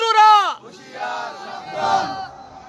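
A crowd at an Islamic religious gathering shouts a slogan back in unison, following a single raised voice. The loud, massed voices swell and fade over a couple of seconds.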